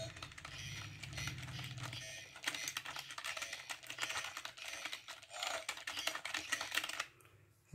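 Rapid keystrokes on a USB/PS2 keypad wired to an Arduino, clicking in dense, fast bursts that run almost continuously for several seconds before a brief pause at the end.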